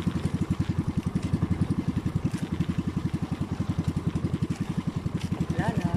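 A new boat engine idles on a small fishing boat, a steady rapid low chugging pulse that runs evenly and close throughout with no talk over it.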